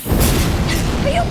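An explosion from the movie Zathura, done practically by jolting the set, lands as a loud low boom with rumbling debris noise over about a second, close and without talk.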